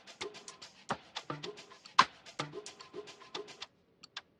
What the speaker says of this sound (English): I added another percussion loop again. Together it sounds like this.